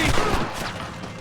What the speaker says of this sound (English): ¡Tiros!